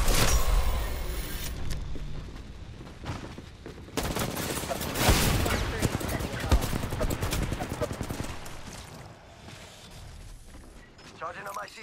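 Video game gunfire in a battle royale match, with dense rapid bursts of shots and mechanical clatter, loud and near, swelling in the middle, while a player talks over it.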